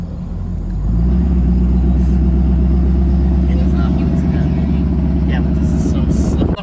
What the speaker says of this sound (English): We are going to do a burnout